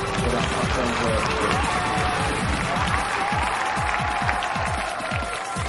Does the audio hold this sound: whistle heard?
no